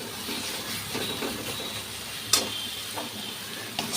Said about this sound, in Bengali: এদিকে শুটকিটা আস্তে আস্তে ভাজা ভাজা করছি